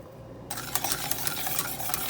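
Stirring a warm mixture in a pot as dehydrated kohlrabi powder is worked in for homemade kohlrabi ice cream, with steady scraping and swishing after a quiet start, close and fairly loud.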